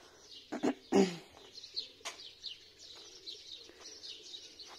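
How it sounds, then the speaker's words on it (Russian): Birds in a rural yard chirp and coo, with a pigeon or dove among them. The calls come as scattered short bursts, faint and fairly distant, over quiet background. "Птички поют."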